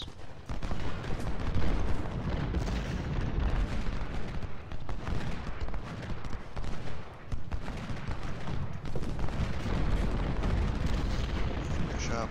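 A Civil War battle in the strategy game Ultimate General: Civil War roars with artillery fire: dense, overlapping cannon booms and rumbling blasts that run without a break, loud and close.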